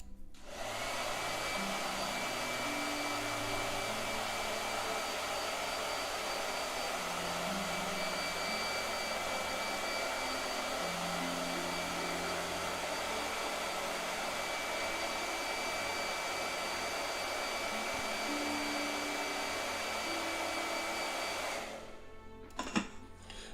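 A blow dryer runs steadily and close for over twenty seconds, a loud airy whoosh with a thin high whine on top, then clicks off near the end.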